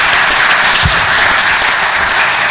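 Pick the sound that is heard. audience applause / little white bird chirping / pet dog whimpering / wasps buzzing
audience applause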